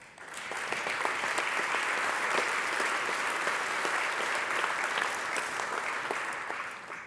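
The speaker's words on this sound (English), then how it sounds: "join me in showing our appreciation to each other with a round of applause" Members of the Texas House of Representatives give a sustained round of applause in their chamber, dense even clapping that swells quickly and holds steady throughout, with no speech.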